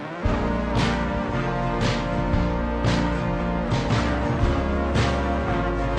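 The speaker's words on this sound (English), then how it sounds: "Go to your audio effects and add pitch shift." The New Girl theme song plays with a pitch shift effect, a dense full-band music mix running steadily with regular percussive hits throughout.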